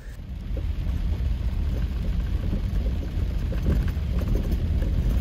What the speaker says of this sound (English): It's still raining really hard